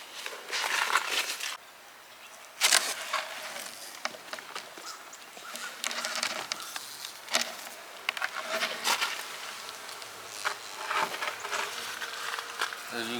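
Honey bees buzz around a hive in a steady, busy drone, close and moderately loud, mixed with intermittent scraping and handling noises from the beekeeper's work.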